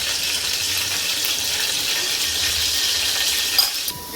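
Cumin seeds sizzle in hot oil, a steady, close, bright hiss that holds evenly throughout, with a small clink near the end and no talk.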